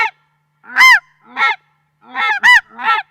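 A snow goose call blown to imitate a young goose gives five loud, close honks in an uneven rhythm, each a short, nasal, high-pitched yelp with brief silences between them.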